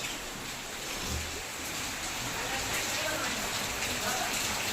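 Steady rain falls early in the morning in Bengal, a continuous even hiss of drops on surfaces. It stays at a constant moderate level from start to finish.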